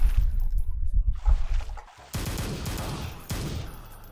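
Shotgun blasts in Brutal Doom Black Edition, with a heavy burst of rapid booming fire close up, then a pause and two sharp, loud single reports, each trailing off in a noisy rumble, with no voices.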